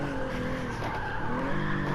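A stock car drifts in Gran Turismo 7 under heavy throttle, its tires squealing in a sustained loud skid over a steady engine drone for the whole moment, close and continuous.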